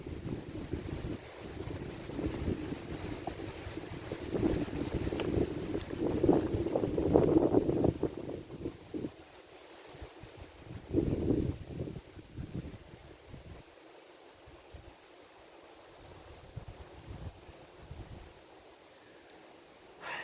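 Steady wind buffets a microphone with low rumbling gusts that swell and fade, loudest in the middle, with no one speaking.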